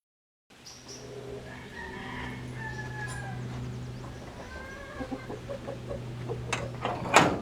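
Backyard chickens in a Philippine countryside yard cluck and call close by, with a run of short repeated calls over a low steady hum and a sharp clattering knock right at the end.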